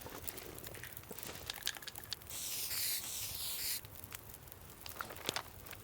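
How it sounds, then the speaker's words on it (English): A spray paint can hisses in The Long Dark in one steady burst of about a second and a half, set against faint crackling and shuffling game ambience. "Show you how this spray paint works"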